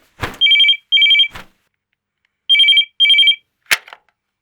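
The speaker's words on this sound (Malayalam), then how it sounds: "പോയിട്ടാ ഫോൺ എടുക്ക" A telephone rings in a home: two pairs of electronic trilling bursts separated by a pause, close and clear, with a couple of sharp knocks or clicks around them and no talking.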